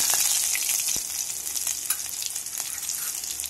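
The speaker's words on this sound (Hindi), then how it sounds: "कद्दूकस किया हुआ अदरक डाल देंगे, हरी मिर्च, सभी चीजों को हम अच्छे से पका लेंगे" Grated ginger and green chili fry in a pan for vegetable dalia, with a close, steady hiss of sizzling oil and occasional light scrapes of stirring.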